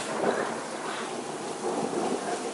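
Heavy rain with big raindrops pours down in a dense, continuous roar, loud and close throughout with slight surges in intensity.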